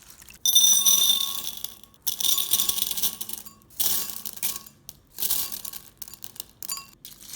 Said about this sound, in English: After rinsing, transfer the beans to a large bowl again.